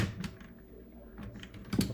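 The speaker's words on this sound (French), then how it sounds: "le clavier, il s'emmanche en fait là" Plastic clicks and knocks come from an Amiga 600 keyboard being pressed and fitted into its case, a few close, sharp taps over a quiet room.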